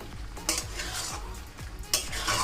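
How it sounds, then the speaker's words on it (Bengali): Chicken with sauce, onion and capsicum stir-fried in a pan, with a soft sizzle under repeated scraping strokes of a utensil, close and steady, and no talk. "এই পর্যায়ে ভেজে রাখা চিকেনগুলো দিয়ে দেবো দিয়ে আবারও খুব ভালো করে আমি চিকেনের সাথে সস পেঁয়াজ আর ক্যাপসিকামটাকে কষে নেব"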